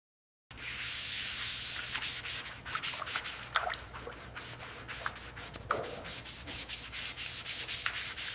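Rotary compounding and polishing on turquoise blue car paint during a classic car restoration: a steady close abrasive whir with rubbing swishes and brief louder scrapes, no voices.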